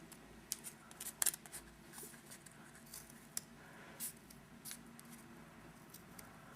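Scissors snip notches into leaf shapes cut from a cardboard toilet paper tube, a few quiet, scattered clicks close by, with wind and faint banging in the background.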